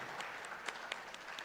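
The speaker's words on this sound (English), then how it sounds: "Big applause for Julia." Audience at a conference main stage applauds briefly, a fairly faint patter of claps with a few sharper individual claps standing out.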